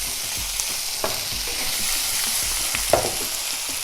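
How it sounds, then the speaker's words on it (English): Strips of ham hitting hot olive oil in a pan sizzle steadily up close, with a few sharp crackles and utensil taps scattered through the frying. "I'm just going to slice up some strips of ham. And this is going to go straight onto our pan."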